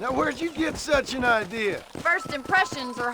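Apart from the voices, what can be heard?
None of the usual background noises is heard.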